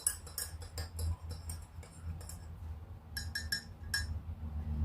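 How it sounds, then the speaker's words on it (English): A spoon stirring sweet cream into iced coffee, giving quick bursts of bright, close clinks against the glass with a brief pause in the middle and no talking. "better stir this first"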